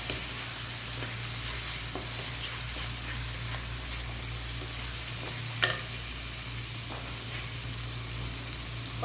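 Tomato paste for a mixed vegetable sabzi sizzles steadily in a frying pan, a continuous close hiss with occasional scrapes from stirring and no talking.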